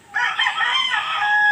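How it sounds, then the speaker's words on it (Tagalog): A single rooster crows loud and close, one sustained call of about a second and a half, rising and holding steady, recorded among laying hens with no voices. "Parang marami ng manok."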